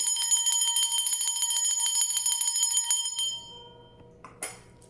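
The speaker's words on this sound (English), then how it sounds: "I'm just going to ring the bell" A bright bell rings with rapid repeated strikes for about three seconds, then its tone fades, followed by a single faint chime.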